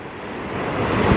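Sea waves wash in at a beach in Albay, Bicol, heard as a broad continuous rushing surge that builds slightly louder toward the end, with no voices.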